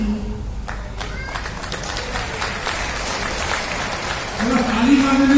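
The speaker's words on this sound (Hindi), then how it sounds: "थोड़ा ताली मारने में भी कंजूसी है।" Audience clapping at a policy sales meeting, a steady patter of many hands running under a murmur of voices, growing slightly louder near the end.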